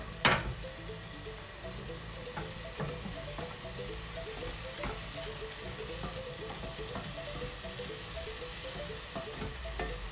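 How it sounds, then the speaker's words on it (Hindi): Food frying in a pan over a medium flame for a Murgh Do Payaza chicken dish, a continuous close sizzle broken by scattered stirring scrapes and taps. "हमने सिर्फ ये 1 मिनट से भी कम इसको फ्राई करना है मीडियम फ्लेम पे"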